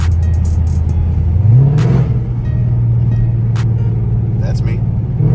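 Car cruising along with a steady low engine drone that rises in pitch as it accelerates, close and prominent, with someone talking over it.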